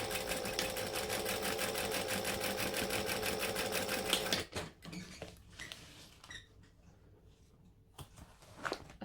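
Sewing machine stitching a crossbody bag, running steadily in a fast, even mechanical rattle for about four seconds, then stopping, followed by quieter handling clicks and rustles close by.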